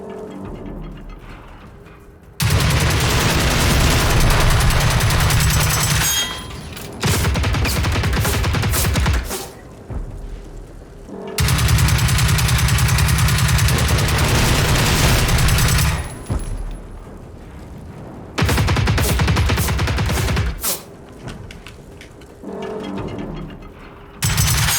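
Bursts of rapid automatic gunfire from the video game Generation Zero come in loud sustained volleys separated by short pauses, with no talk over them.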